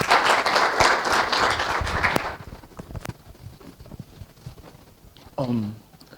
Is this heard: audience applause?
yes